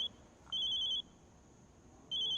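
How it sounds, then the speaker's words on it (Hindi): An electronic telephone ring trills in two short bursts separated by a pause, fairly quiet against a low background. "फोन"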